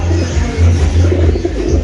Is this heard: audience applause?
no